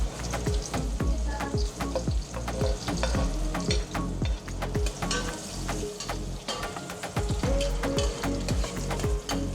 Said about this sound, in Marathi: तेला पहिल्यांदा शिजवून घ्यायचं आहे आपल्याला हे बारीक चिरलेला कांदा आहे